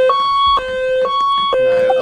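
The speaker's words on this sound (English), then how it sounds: "You go set off the alarm." An electronic fire station turnout alarm in a UK emergency-services video game roleplay sounds a loud, steady two-tone pattern, alternating high and low pitches about every half second, while people talk over it.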